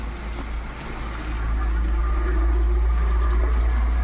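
Constant rushing roar of a waterfall at Mahadev Gad, Amboli, swelling louder after the first second, a dense steady wash of falling water heard up close.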